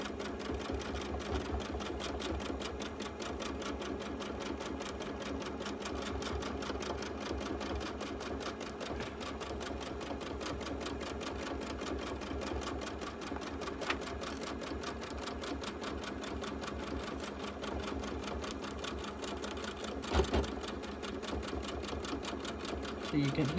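A sewing machine quilts a baby quilt, a close, continuous rapid stitching chatter running throughout with a few louder knocks near the end.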